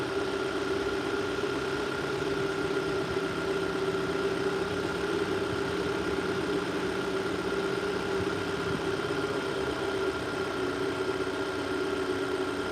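A car engine idling high just after starting, a steady continuous rumble with an even hum that holds throughout with no talking.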